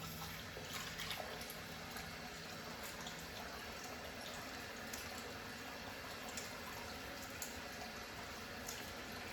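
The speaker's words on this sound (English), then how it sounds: "Let me go ahead and wash my head real quick." Running water while a shaved head is washed: steady, fairly faint splashing and trickling with no clear breaks, heard alone throughout.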